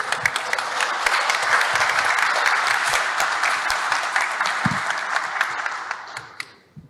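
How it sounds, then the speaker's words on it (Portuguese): Audience applause at a panel discussion on culture, tourism and gastronomy, several seconds of sustained clapping that thins out and stops. "Eu acho que merece até um aplauso."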